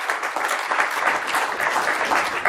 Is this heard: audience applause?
yes